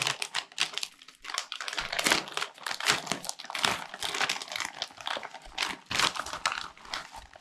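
Packing paper is crumpled and crinkled while a parcel holding a PlayStation 3 game is unpacked, a dense, close run of crackling rustles with no talk over it.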